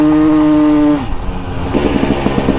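A dirt bike rides into flood water in Dallas, Texas: a steady loud engine drone suddenly drops and gives way to churning, splashing noise with the motor still pulsing underneath, close up, with no speech.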